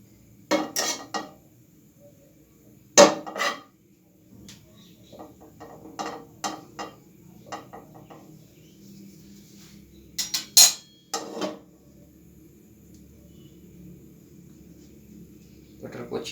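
Close clinks and scrapes of a utensil on a pan as butter is spread for French toast, coming in scattered sharp bursts with quiet gaps and soft talk between.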